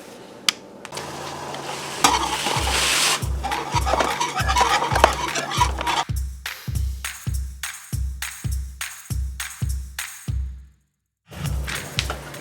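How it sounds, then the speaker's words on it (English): A whisk beats rhythmically against a pot of oatmeal in boiling water, a quick regular clatter of strokes over bubbling liquid, with a brief pause before the stirring resumes. "poured into 8 cups of boiling water, whisk it, cook 2 to 3 minutes"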